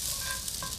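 Spring onions and ramps searing in a hot pan, a brief, dense, continuous sizzle heard close and fairly loud, with no voices over it.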